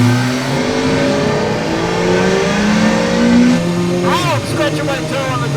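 A motorcycle engine revs and accelerates loudly during a ride, its steady drone rising and falling, with a voice talking over it and a sharp squealing burst near the end.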